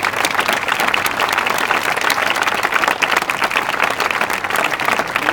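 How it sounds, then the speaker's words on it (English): At a high school marching band parent night, a crowd in a hall breaks into full, steady applause for the band instructors, dense clapping that holds evenly from start to end. "we ought to give them a round of applause even if they couldn't be here tonight"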